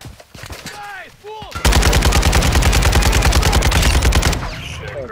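Sustained rapid automatic gunfire from a shooter video game, loud and close, firing in a continuous burst for a few seconds after quieter game sounds.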